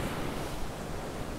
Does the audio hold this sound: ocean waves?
yes